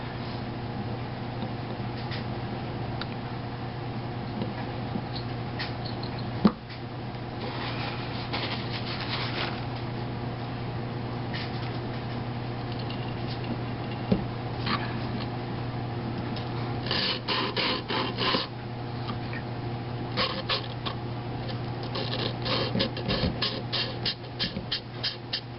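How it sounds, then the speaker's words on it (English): Engine valves for a Predator 212 Hemi build are ground and lapped by hand, a continuous close scraping and rubbing with irregular gritty strokes over a steady background hum. "when you're grinding your valves that you got a nice, consistent, even line"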